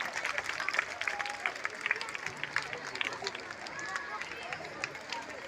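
A crowd of schoolchildren at a 26 January celebration in an Urdu primary school in Malegaon applauds continuously, a soft, even clatter of many hands mixed with background chatter and a voice.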